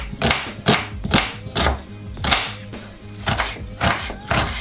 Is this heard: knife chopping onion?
yes